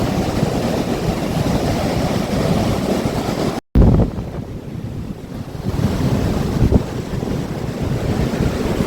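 Sea waves surging onto a beach at sunset, a loud continuous rushing wash with heavy wind buffeting the microphone, broken by a brief cut before the roar resumes.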